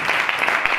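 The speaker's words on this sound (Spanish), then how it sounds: "Den un aplauso fuerte al Señor." A church congregation applauds in a short, dense burst of steady clapping that fills the space.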